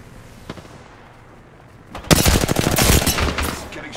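Gunfire hitting the player in Apex Legends: after a quiet opening, a loud, rapid burst of close shots erupts and keeps cracking for about two seconds before easing off.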